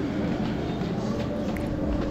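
A Krishnanagar local train on a winter morning gives off a low, steady rumble and rolling drone from inside or beside the carriage, moderately loud and unbroken for a couple of seconds, with no voices.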